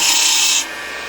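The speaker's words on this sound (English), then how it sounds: "we're going to come in with our skew and we're going to try to mark our diameter" A skew chisel cuts into wood spinning on a lathe while an acorn is turned, making a loud, close, dry scraping rasp for about half a second before it stops abruptly, leaving a faint hiss.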